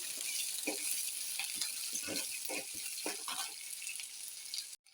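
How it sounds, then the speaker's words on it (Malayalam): Vegetables sauté in a hot pan with a soft continuous sizzle, punctuated by a series of light scraping stirs at a gentle rhythm, close and quiet. "എന്നിട്ടിത് നന്നായിട്ടൊന്ന് വഴറ്റി കൊടുക്കണം"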